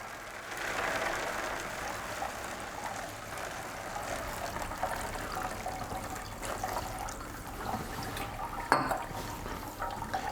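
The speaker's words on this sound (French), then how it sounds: "je commence à verser mon eau par-dessus" Water poured steadily over sand in a school geology experiment, a soft continuous liquid trickle with a small splash near the end and no talking.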